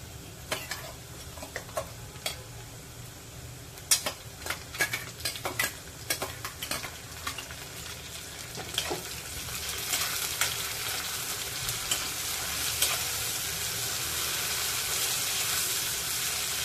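Onions sizzle steadily in a hot pan while a spoon scrapes and clinks against the metal, the frying growing louder and fuller toward the end.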